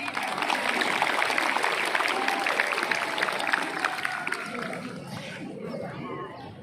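Applause from students at a school Scout ceremony, many hands clapping in a busy, slightly distant patter mixed with crowd chatter, tapering off after about five seconds as voices take over.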